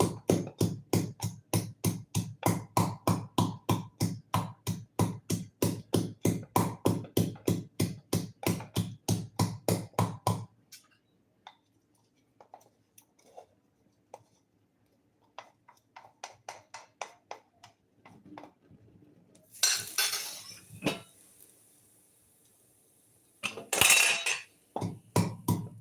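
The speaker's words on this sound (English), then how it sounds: "you just want to crush your ginger, garlic, and turmeric into a very fine paste" Ginger, garlic and turmeric are pounded into a fine paste with rapid, even thuds for about ten seconds, followed by sparse lighter taps and a few sharp kitchen clatters in a quiet room.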